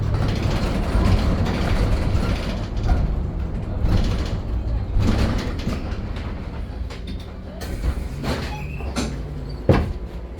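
Bus doors slide and thump open at a stop, with a sharp mechanical clunk near the end over a steady engine drone.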